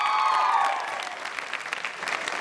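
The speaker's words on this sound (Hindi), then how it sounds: "और अब तालियां उनके लिए" An audience at a university quiz show event claps in a dense burst that eases into lighter, scattered applause, with a faint voice underneath.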